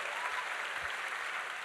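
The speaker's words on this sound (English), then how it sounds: "A round of applause for those folks," Soft, steady applause from a premiere audience at a film festival screening, a brief wash of many hands clapping at a distance.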